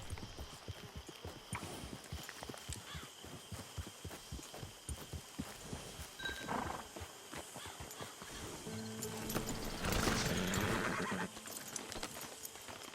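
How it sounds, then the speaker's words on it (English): Horse hooves clip-clop steadily in Red Dead Redemption Online, a dense rhythmic stream of close footfalls joined by neighing and whinnying, with a louder burst of mixed game sound and music near the end. "Get your horse."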